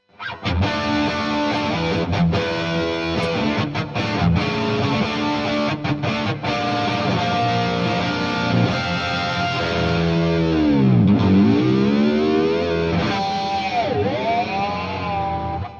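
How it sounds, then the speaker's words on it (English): A Stratocaster electric guitar plays through the driven distortion channel of a Marshall DSL100H amp, loud and sustained with chords, single notes and bends ringing out continuously. "this is the distortion with the Strat, just a driven channel from the DSL."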